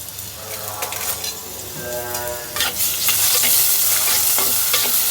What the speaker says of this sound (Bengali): ভালোই পেঁয়াজ লাল হচ্ছে।